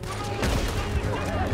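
Gunfire in the video game Red Dead Redemption 2 during a bank money wagon robbery, a dense, continuous fusillade of loud overlapping shots with a player talking over it.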